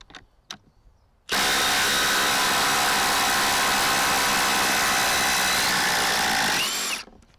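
Dewalt 887 and Ridgid Octane impact drivers drive long lag screws into wood with no pilot holes, a loud continuous hammering whir running about six seconds after a couple of faint knocks, then stopping abruptly.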